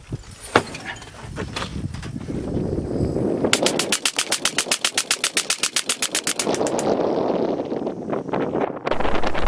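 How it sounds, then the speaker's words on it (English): An SK19 air rifle fires in full auto outdoors, a rapid even burst of sharp cracks lasting about three seconds, with wind noise and rustling before and after. "I shot several magazines in full auto and was impressed by the reliability and high rate of fire."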